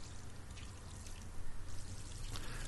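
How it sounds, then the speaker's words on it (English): Crops being watered in the farming game Story of Seasons: Friends of Mineral Town, a steady pouring splash that swells slightly midway, with no talk over it. "Now I'm going to go ahead and water."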